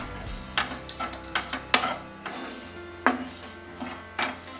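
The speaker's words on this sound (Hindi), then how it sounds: "इलायची पाउडर डाल देंगे और इसे अलसी के साथ ही रोस्ट कर लेंगे" Flaxseed with cardamom powder roasts in a pan over medium flame, stirred with a series of close, irregular scraping and rustling strokes, soft and quiet with no talking.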